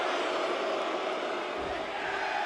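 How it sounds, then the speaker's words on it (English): A wrestling arena crowd cheers during a trios match, a dense, steady roar that holds loud and even for the whole stretch with no breaks. "This crowd's come alive here, guys."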